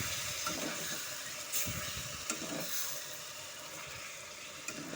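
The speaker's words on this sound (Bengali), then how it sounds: "আমি আঁচটাকে লো টু মিডিয়ামে রেখে সমস্ত মশলার সাথে চিকেনটাকে ভালো মতো করে কষে নেব" Chicken with spinach and green chilli paste sautéing over low-to-medium heat, a soft continuous sizzle broken by a few spoon scrapes and stirring clicks, with no one talking.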